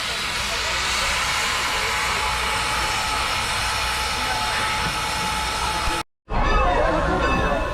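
Strasburg Railroad steam train heard from on board as it departs, a loud continuous broadband rush and hiss of motion and steam, with a brief sharp cutout near the end before the roar resumes.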